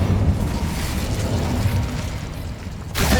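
Incendio fire spell cast in Hogwarts Legacy, a rumbling, whooshing burst of magical fire that roars steadily for about three seconds before a fresh blast flares up at the end, with no voices.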